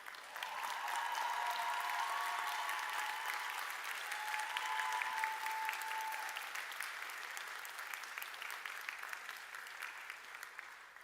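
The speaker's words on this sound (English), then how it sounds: "with a hearty round of applause" A university graduation audience for law and military science graduates gives a sustained round of applause, a dense even wash of clapping from a large crowd heard from a distance, slowly tapering off toward the end.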